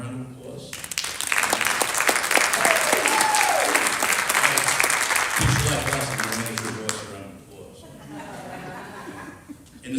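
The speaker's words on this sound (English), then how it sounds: "give him a round of applause" Audience applause at a Board of Education meeting, a full round of clapping with scattered chuckles that swells, holds for several seconds, then tapers off as a voice begins speaking.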